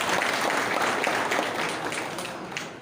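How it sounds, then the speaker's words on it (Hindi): A seminar audience in Berhampur claps for the speaker, a dense, steady burst of applause lasting about three seconds with no talk over it. "सर के लिए जोरदार ताली बजाएं"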